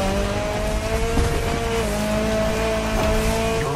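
Race cars in The Crew Motorfest, a steady loud engine drone with whining tones and occasional tire squeal, continuous and close throughout.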